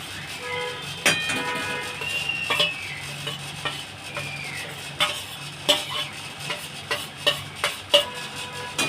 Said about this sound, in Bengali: এবারে ওতে খোয়া ক্ষীরটা দিয়ে দেবো কড়াতে।